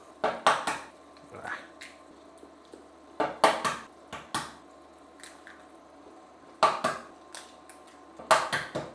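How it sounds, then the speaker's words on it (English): Eggs cracked one by one into a pan for shakshuka: sharp clicking taps of shell against the rim in small clusters, spaced several seconds apart, close and fairly quiet with no talk. "my favorite part, breaking eggs"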